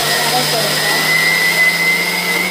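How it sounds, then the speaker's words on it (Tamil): A mixer grinder grinds urad dal with coconut milk in place of water for millet dosa batter, giving a steady, loud motor whir with a constant tone that runs unbroken throughout. "நான் தண்ணி விடாமல் தேங்காய் பாலே விட்டு அரைச்சி கொள்ளுறேன்"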